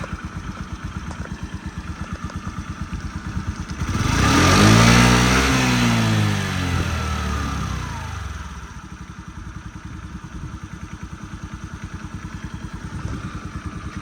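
A carbureted Honda Dio AF-62 49cc scooter engine idles with a steady, close putter, briefly revving louder in the middle before settling back to a quiet, low idle.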